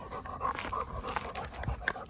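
An 8-year-old German hunting dog pants steadily and close by, quick rhythmic breaths carrying on through the whole stretch with no talk over it.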